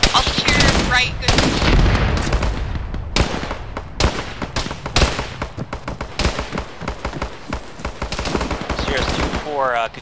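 Military video game combat with heavy gunfire: rapid automatic bursts and single sharp shots crackling loud and close throughout, dense and overlapping, with radio-style voices talking underneath.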